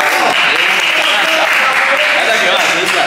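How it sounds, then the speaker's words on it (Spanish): A studio audience claps loudly and steadily for a contestant named Nata on a dating show, a dense continuous wash of applause with no pauses. "Un aplauso muy fuerte para Nata."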